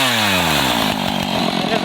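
Chainsaw with its chain mounted backwards revs loudly and steadily close by, the engine pitch shifting slightly as it runs.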